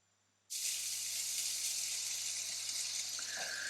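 Bacon sizzles in a pan with fat and oil, a loud steady hiss that starts abruptly after a moment of near silence and continues without a break.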